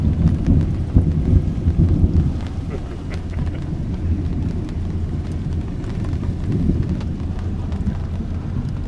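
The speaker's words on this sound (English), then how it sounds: "that rumble of thunder was the last one that we had heard" A low rumble of thunder rolls on and on beneath steady rain, deep and heavy at first, then easing into a softer, continuous grumble.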